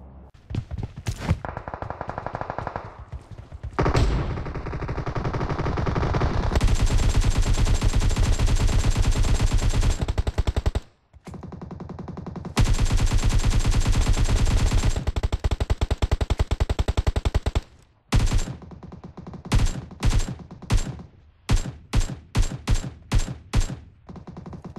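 Loud shotgun and automatic gunfire in the battle royale game PUBG, with sustained bursts of rapid fire broken by brief pauses, ending in a string of separate, evenly spaced single shots.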